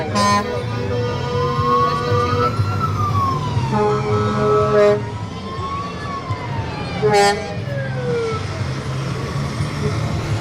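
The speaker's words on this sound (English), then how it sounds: "Fire Department coming through. Sirens blaring." A fire truck siren wails up and down loudly over rumbling engines at a nighttime parade of lights in Thunder Bay, with sharp air horn blasts cutting in, close by outdoors.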